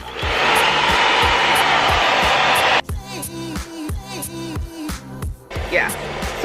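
A hair dryer blows steadily on twisted hair, a loud constant whoosh that cuts off abruptly partway through, followed by handling clatter and talk.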